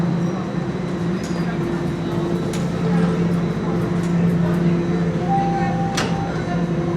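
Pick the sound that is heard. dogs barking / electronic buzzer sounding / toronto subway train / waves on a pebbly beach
toronto subway train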